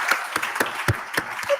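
An audience at an awards ceremony applauds, with several distinct claps standing out through a brief stretch of clapping.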